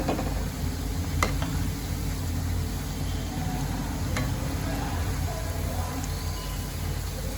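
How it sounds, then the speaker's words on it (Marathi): Coriander bhaji (kothimbir bhaji) deep-frying in oil, giving a dense, continuous bubbling hiss throughout, steady and fairly loud, with a few faint clicks and no voices. "भज्यांना मी चांगलं लाल होसपर्यंत तळून घेतेय"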